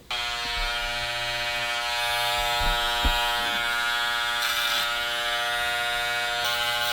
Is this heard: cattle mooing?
no